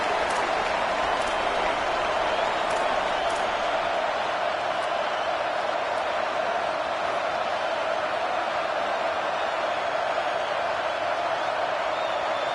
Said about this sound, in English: Oh, this crowd wants it.